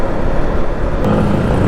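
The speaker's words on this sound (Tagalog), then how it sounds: "Kita mo yan guys, pagdating dito yung traffic" Steady road traffic rumble of passing cars and motorbikes on a busy street, continuous and fairly loud, with a brief whoosh of a vehicle going by partway through.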